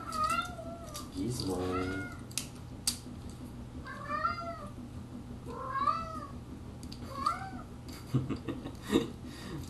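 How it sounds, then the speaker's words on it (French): A cat meows several times in short, rising calls spread across the stretch, close and fairly clear, with a person speaking briefly and background noise underneath. "Mon chat a décidé de vous chanter une sérénade."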